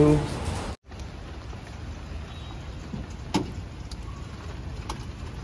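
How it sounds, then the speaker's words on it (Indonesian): Rain falls steadily outside a restaurant as a constant hiss. It follows a brief burst of talk and a sudden cut, with a few faint knocks over the rainfall. "hujan di luar"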